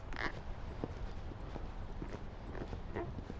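Hooves drum in a quick rhythmic beat on soft ground as a horse gallops during a riding lesson, with faint background noise and a brief voice.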